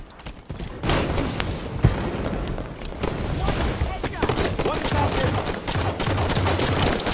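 Rapid gunfire from a Halo Slayer match fills the clip, with repeated sharp shots and bursts over steady game noise, and a voice talks over the action.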